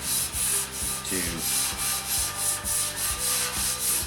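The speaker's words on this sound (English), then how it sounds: "I'm using Eastwood Fast Etch and a Scotch-Brite pad" A Scotch-Brite pad scrubs Eastwood Fast Etch over a bare, flash-rusted car frame set upside down on stands, giving steady rhythmic abrasive rubbing strokes, close and moderately loud.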